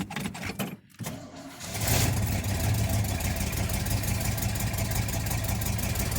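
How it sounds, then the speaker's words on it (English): A 1989 454 V8 engine idles steadily after a cold start, a deep, close, continuous rumble that settles in after a brief stumble and restart at the beginning. "she'll sit here and idle for a few minutes, warm up a little bit, and away we go."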